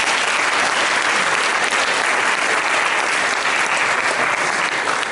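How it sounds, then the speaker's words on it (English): An audience at a stage production of I Never Saw Another Butterfly claps in a loud, dense, continuous round of applause with no pauses. "Let's give each other a big round of applause."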